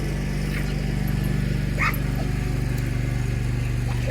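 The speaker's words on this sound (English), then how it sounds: "And the dogs still barking." Dogs bark repeatedly in the distance outdoors, a quick yapping rhythm over a loud, constant low hum that dominates throughout.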